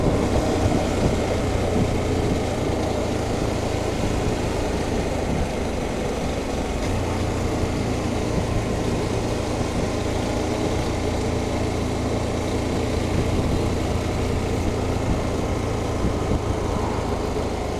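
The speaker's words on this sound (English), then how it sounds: "you can hear this awesome engine. It really does sound the business. It growls." A KTM 1290 Super Adventure S motorcycle's engine growls continuously while riding on a road, with a steady low rumble and wind noise throughout, with no speech.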